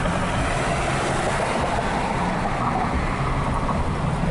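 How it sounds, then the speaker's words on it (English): A Chevy Silverado with a slipping transmission drives along, its steady loud road and engine drone filling the cabin without letup, no voices present. "When it goes into around fifth gear, it starts slipping and doing all type of stuff."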